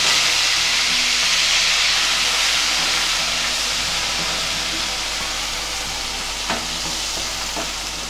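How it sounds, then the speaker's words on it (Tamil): Onions sauté in oil with pepper and cloves for a dhaba-style paneer gravy, a steady loud sizzle and hiss that continues throughout, with a couple of faint scraping stirs near the end. "இப்போ நம்ம வெங்காயம் சேர்த்து நல்லா வதக்கிக்கலாம்."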